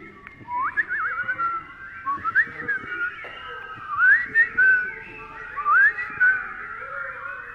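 A person whistles a series of short, bright, warbling phrases imitating a parrot, with pauses between bursts, close and clear.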